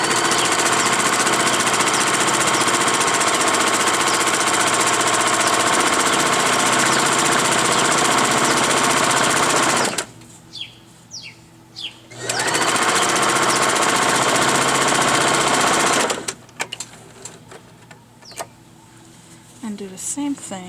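A sewing machine stitches a seam along a chair slip cover during a wicker chair restoration, running in a loud steady buzz for about ten seconds, stopping briefly, then running again before cutting to quieter intermittent sounds.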